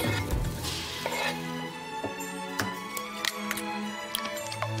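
Carrots, char siu, kamaboko and green peppers sizzle in a frying pan over medium heat while a utensil scrapes and taps against it in irregular strokes, with a soft hum in the background.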